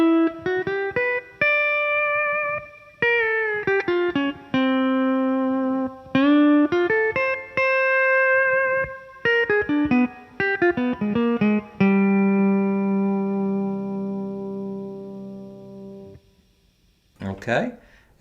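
A C6 pedal steel guitar plays a jazz 2-5-1 lick, with clean sustained notes that slide and bend between pitches, phrases separated by short pauses, ending on a long held chord that fades out.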